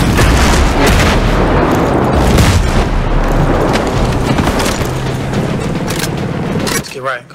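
Gunfire in Ghost Recon Breakpoint, a dense run of loud, booming shots and impacts that carries on almost without pause before cutting off near the end, with voices heard through the noise.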